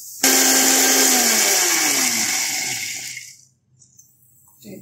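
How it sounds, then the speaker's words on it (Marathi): A kitchen mixer grinds fresh grated coconut with water in a steady loud whine lasting about three seconds, its pitch sliding downward before the motor cuts off, then a few soft clunks in near silence. "त्याच्यामध्ये जर असं पाणी टाक आणि फिरवून घेऊ मिक्सरला."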